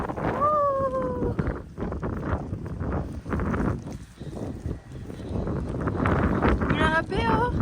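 Strong wind gusts in snowy Georgia, USA, roaring steadily into the microphone as buffeting noise throughout, with a person talking and exclaiming over it.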